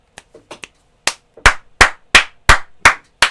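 Bare hands clapping, first a few light scattered claps, then six or seven loud, sharp claps in a steady rhythm, close and dry with no voices.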